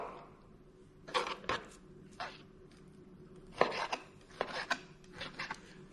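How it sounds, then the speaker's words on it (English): A knife chops lamb liver and heart on a board, producing a few irregular, fairly quiet knocks and scrapes separated by pauses, with no talk. "No need to waste too much time showing you how to cut."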